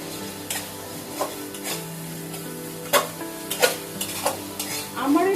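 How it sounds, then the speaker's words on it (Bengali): Spices and garam masala being stirred and fried in a pan while cooking kochur loti with sea fish: a soft background sizzle broken by sharp, irregular scrapes and clinks of a utensil against the pan. "এভাবে ভালোভাবে নেড়ে চেড়ে দিয়ে মশলাটাকে কষিয়ে নিব।"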